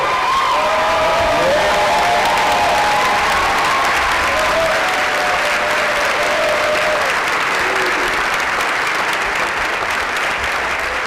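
Dense, steady applause from a large film festival audience at a post-screening Q&A, loud and close, sustained for the whole stretch with a few brief cheers and murmurs mixed in.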